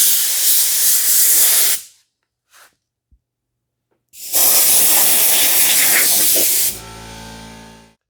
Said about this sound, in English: First thing I'm going to do is use my blower and just blow off all